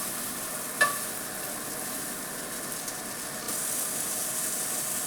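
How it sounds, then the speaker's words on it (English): Asparagus frying in a pan, a steady soft sizzle and hiss running throughout with a brief sharp clink near the start and the sizzle swelling slightly louder toward the end. "After a few minutes of frying the asparagus, just transfer it to a plate."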